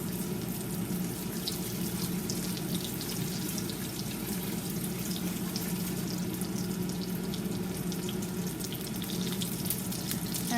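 A breaded milanesa cutlet frying in a very hot pan, an even, unbroken sizzle of hot oil at moderate level, with nobody speaking.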